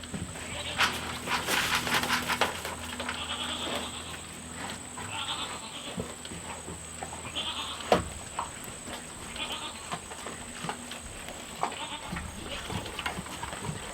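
Several pigs grunt and squeal over a steady outdoor background hum, with occasional clanks and thumps.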